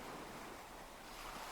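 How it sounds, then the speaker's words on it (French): Steady ocean surf washing in a continuous broadband roar with some wind noise, soft and even throughout, with no voices. "Vous entendez toujours le son des vagues"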